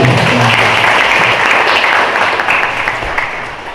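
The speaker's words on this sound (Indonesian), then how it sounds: "Tepuk tangan." Students and guests at a school seminar burst into loud, dense applause that holds steady and then slowly fades toward the end.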